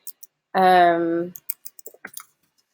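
Computer keyboard keys click in a short irregular patter right after a brief sustained voiced sound, close and dry.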